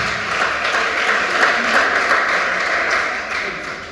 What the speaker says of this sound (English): It's a round of applause, it's not easy.